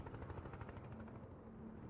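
Helicopter rotor chop from the Broken Arrow video game, a steady rhythmic thudding beat with engine noise, heard fairly faint and continuous with no talk over it.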